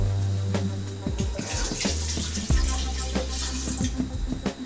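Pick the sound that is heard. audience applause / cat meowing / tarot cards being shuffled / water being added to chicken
water being added to chicken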